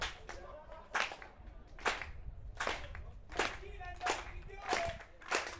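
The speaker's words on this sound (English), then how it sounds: "How about a slow clap" A baseball crowd at a Gem City Bison vs Nebraska Prospects game joins in a slow clap, with about eight spaced, distant claps in a steady rhythm that quickens slightly.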